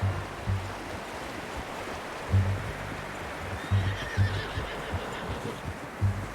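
A horse neighs in the video game Red Dead Redemption 2 against a steady wash of ambient noise, with a few low thumps scattered throughout, like hooves or footsteps nearby.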